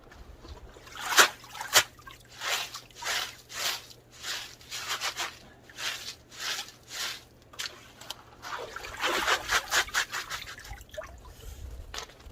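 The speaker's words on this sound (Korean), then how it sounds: "네, 물 부어 주시고요" Water poured in a steady series of trickling, splashing pulses, close and fairly quiet, rising into a fuller stream near the end with no one speaking.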